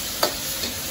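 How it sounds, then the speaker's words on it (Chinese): Garlic, scallion, ginger and chili hitting hot oil in a wok for a seafood hot pot base, giving a brief stirring clatter and a sizzle burst, then a softer second one. "起锅烧油，油热后加入葱姜蒜，加入辣椒麻椒"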